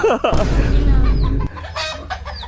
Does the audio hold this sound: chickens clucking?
yes